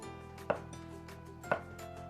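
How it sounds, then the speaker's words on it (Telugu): A knife slant-cuts a gherkin on a chopping board, with two crisp, evenly spaced chops about a second apart over a quiet kitchen background. "నేనేమో ఇట్లా స్లాంట్ కట్ చేస్తున్నా"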